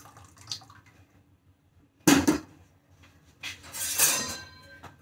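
Water drained off while making homemade paneer comes in two short splashy pours with faint clinks of a pot between quiet gaps, and nobody speaks.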